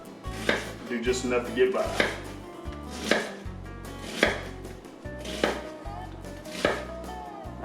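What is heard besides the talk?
knife cutting wild hog meat into long strips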